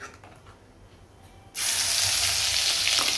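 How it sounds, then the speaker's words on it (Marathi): Vegetables hit tempered oil in a kadhai, bursting into a loud, sustained sizzle that starts abruptly midway after a quiet kitchen moment and keeps crackling steadily to the end. "आता कढईमध्ये ही भाजी टाकते"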